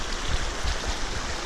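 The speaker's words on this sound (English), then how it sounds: "Washing the shoes off." A rushing mountain stream on the hike to Trolltunga in Norway, where shoes are being washed off; a steady, close, broadband wash of flowing water with low splashy churning throughout.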